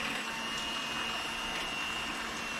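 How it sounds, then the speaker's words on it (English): A blender whirs steadily while chopping cooked apples for apple butter, a loud, constant motor drone held close for the whole moment with no talk over it. "Some people use like a potato masher, but I like to use my blender."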